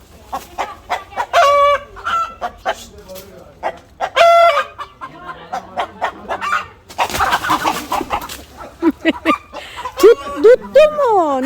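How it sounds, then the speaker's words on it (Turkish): Chickens cluck beneath lemon, mandarin and orange trees, with close, repeated clucks and a rooster crowing, while people talk on and off over them. "Limon, mandalin, portakal ağacının başında tavuklar."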